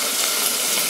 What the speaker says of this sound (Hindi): अब हम लोग इसको तेल में भून लेंगे जब तक कि ये गोल्डन ब्राउन ना हो जाए